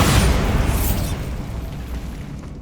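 A Bombarda blasting spell in Hogwarts Legacy: a loud, booming explosion with a broad crackling burst at the start, then a rumbling tail that slowly fades.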